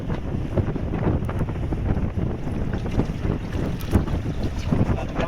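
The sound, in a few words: strong wind blowing outdoors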